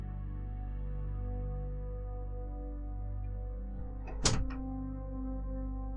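A well-oiled door swings open indoors with one dull, brief thunk and no creak, heard close over a steady low electrical hum.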